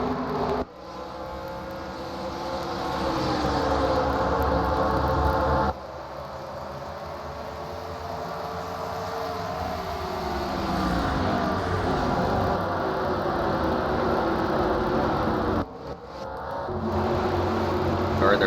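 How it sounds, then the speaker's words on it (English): Race cars from the 2008 PASS Series circle the Phoenix track, a steady engine drone with rising and falling pitch sweeps as cars pass, continuous and moderately loud throughout with a brief break or cut near the start. "we got a couple cars just kind of cruising around out here"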